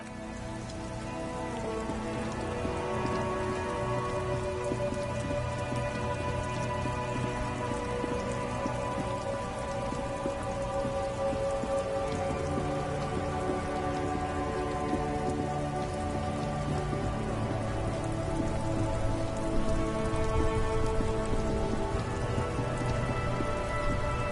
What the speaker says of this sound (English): Stuck in the rain in a traffic.